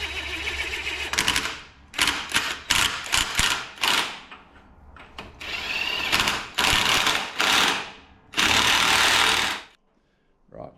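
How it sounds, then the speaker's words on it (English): An impact wrench (rattle gun) runs up the wheel nuts in a string of loud, close hammering bursts, some short and some long, separated by brief pauses, before it falls silent near the end. "going to nip them up the rattle gun just to pull them up, and then we'll start torquing them up"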